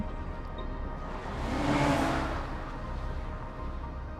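A car in a video game pulling away from a traffic light onto a side road, its engine swelling in a smooth pass that peaks midway and fades, over constant background noise.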